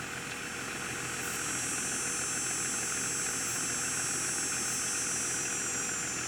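A tractor engine idling in Farming Simulator 22, a steady, even drone with a faint high whine layered on top, constant in level with no talk.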